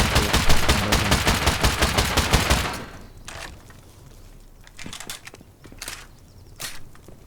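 Rapid bursts of gunfire rattle loudly for a few seconds, then stop, followed by scattered softer thuds and single shots in a quieter game scene.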